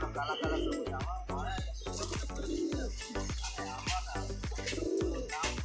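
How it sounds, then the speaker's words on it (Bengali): Jiriya pigeons, gaming pigeons kept for sale in Kolkata, coo in repeated low rolling phrases close by, several birds overlapping with a few faint chirps and wing sounds. "এটা হচ্ছে জিরিয়া পায়রা জিরিয়া পায়রা দেখো"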